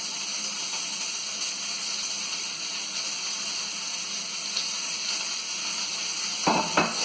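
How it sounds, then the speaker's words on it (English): Steady sizzling of onions and other vegetables frying in hot oil, a constant crackling hiss with a few louder pops and stirring clatter near the end. "You can tell because when I put a few in, it'll sizzle."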